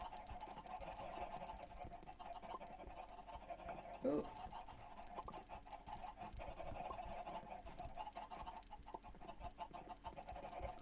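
Chickens cluck and squawk in Minecraft as a flock is herded into a fenced pen, with a brief louder burst of clucking midway. A person talks throughout.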